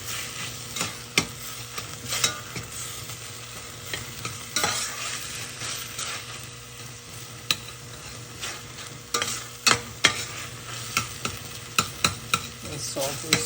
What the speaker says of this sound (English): You add the saltfish to it and fry it up.